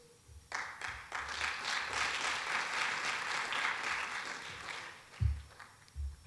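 Audience applause fills a room at the Colvin Institute 2020 awards dinner, a steady wash of many hands clapping that swells in after a moment and holds, then thins out into a few scattered claps and thumps near the end.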